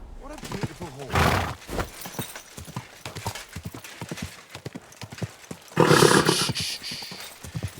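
Hooves clip-clop on the ground as a horse walks in the video game Kingdom Come: Deliverance II, with a neigh or whinny near the end, mixed with game sounds and spoken voices.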